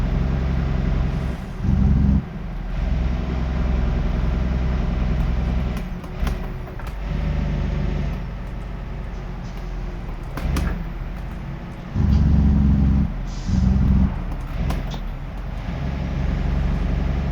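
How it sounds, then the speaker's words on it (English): A deep, steady truck engine drone from American Truck Simulator runs throughout at moderate loudness, with brief louder surges and a few short clunks along the way. "It's got such a lovely deep sound, this engine."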